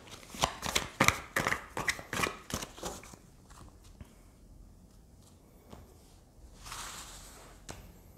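Tarot cards are riffled and shuffled in a quick run of crisp flapping snaps, then go quiet apart from a few soft taps and a brief papery swish as cards are drawn.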